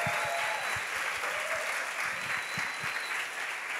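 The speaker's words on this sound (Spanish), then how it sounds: "damos por comenzado el concierto con un fuerte aplauso para todos nuestros alumnos" Audience applause at a year-end music school concert, steady and full from many hands, with individual claps standing out near the microphone.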